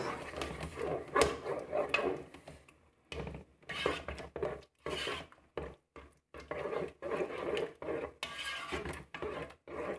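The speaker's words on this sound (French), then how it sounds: "je vais bien mélanger le tout" Ingredients are stirred inside a Moulinex 12-in-1 multicooker, with egg yolks and cream being mixed as a spoon scrapes and taps the pot in close, irregular bursts separated by short pauses.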